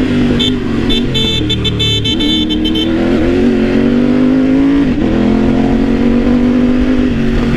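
A Triumph Tiger 900 motorcycle without a plate accelerates loudly up close, the engine revving high, dropping briefly as gears shift, then pulling steadily again.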